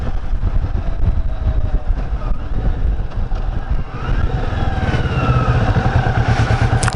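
A motorcycle rides along train tracks, its engine droning steadily under heavy wind buffeting and rattling clatter, with the pitch rising and shifting later in the ride; continuous and close, no talking.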